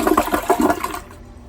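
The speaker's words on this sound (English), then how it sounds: "Now it says it wants us to flush." Toilet flushing during installation of a Brondell FreshSpa bidet seat, a loud close gurgling rush of water that churns for about a second and then drains away to near quiet.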